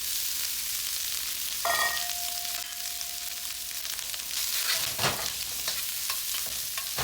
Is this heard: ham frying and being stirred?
yes